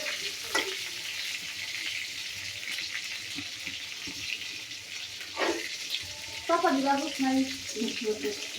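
Chicken meat and liver sizzle steadily as they fry in hot oil, with a few soft stirring scrapes and clinks near the end.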